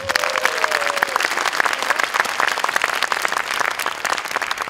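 Sustained audience applause welcoming guests at an opening ceremony, a steady dense wash of clapping from a sizable crowd throughout, with a brief tonal voice or whistle early on.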